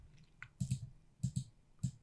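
A computer mouse clicks several times in quick succession while opening a file in Vectric V11 3D design software, producing short, close, soft taps in small bursts with no talking.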